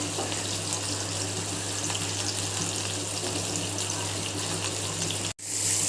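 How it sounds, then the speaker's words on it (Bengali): Marinated chicken frying in a covered pan over slightly below medium heat gives a steady, dense sizzle throughout, briefly cut off and then returning a little louder near the end. "মিডিয়ামের চেয়ে একটু কম হিটে ঢেকে ভেজে নিচ্ছি।"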